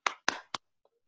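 Three sharp, rhythmic hand claps spaced evenly, close and crisp, as part of the tepuk PPK clapping chant, followed by a faint tap and silence.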